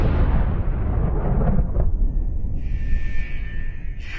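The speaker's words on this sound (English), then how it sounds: "The structure has been compromised by an exterior explosion at the north end of the complex." A C4 charge detonating against the north exterior of a building complex, heard as a heavy rumbling blast that rolls on for several seconds, loud and close, fading into a low roar with some higher tonal noise near the end.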